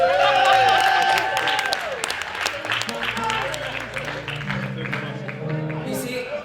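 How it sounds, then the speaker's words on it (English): An audience at an African Heritage Month gala night breaks into loud, sustained applause that tapers off while a voice continues speaking over it. "Big round of applause."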